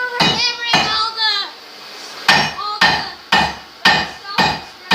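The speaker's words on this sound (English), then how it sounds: "There's where we're hammering all the" Hammer striking heated metal while forging a knife near a flame torch, several sharp ringing blows in an uneven rhythm, loud and close, with voices talking over the first part.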